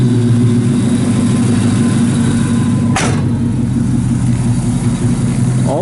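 A 1968 Chevrolet Camaro RS/SS resto-mod with a 6.2 LS engine idles loudly and steadily nearby, with a single sharp click midway.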